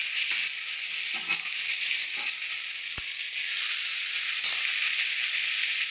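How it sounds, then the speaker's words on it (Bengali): Spinach stirred in a hot frying pan while making a winter biulir dal: a steady, even sizzle that holds throughout, with a few soft scrapes and one sharp knock near the middle, and no voices. "শাকটা একটু নাড়াচাড়া করে নিয়ে আমি ডালটা ছাঁকলে দেবো।"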